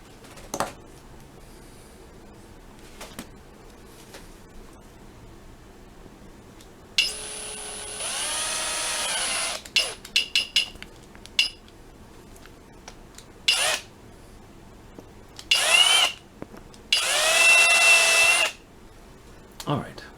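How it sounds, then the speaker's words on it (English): A power drill whines in several bursts, sustained runs and short triggers, biting into the metal hot outlet of a DSK-65 to fix a leak, with quiet pauses between. "Let me commence to drilling."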